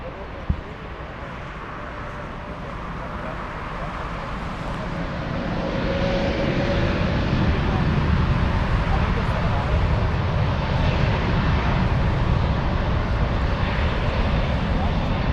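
Lufthansa Airbus A340-600 airliner at Frankfurt airport, a steady broadband jet roar that swells after a few seconds and holds loud and continuous, with talk over it.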